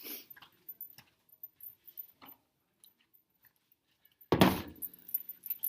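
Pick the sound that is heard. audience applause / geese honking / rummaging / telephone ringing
rummaging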